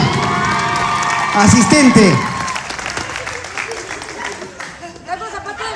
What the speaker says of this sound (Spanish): Un aplauso, ahora.